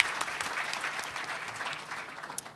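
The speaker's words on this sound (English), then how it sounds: "Will you please give her some applause for that?" An audience at a political panel discussion claps steadily in a short burst of applause, moderately loud and fairly close, with no talking over it.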